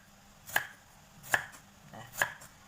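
A knife slices galangal on a chopping board in three sharp, separate chops spaced evenly apart, close and clear against a quiet background.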